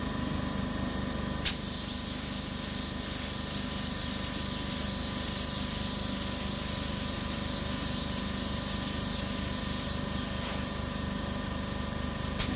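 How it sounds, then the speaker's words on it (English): An InoKraft D1 LVLP air spray gun with a 1.3 mm nozzle sprays paint in a continuous, even hiss, close and steady, with a couple of brief clicks along the way. "So there's the Drizzle air spray gun."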